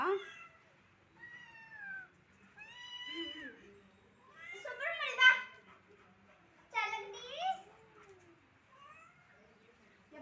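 A frightened kitten meows repeatedly in short, rising cries with pauses between them, close and fairly loud, while people talk and laugh quietly nearby.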